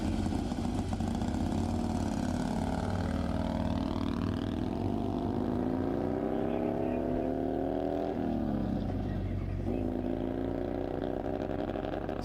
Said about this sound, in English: Mitchell Lewis, that's a 2003 Harley entry.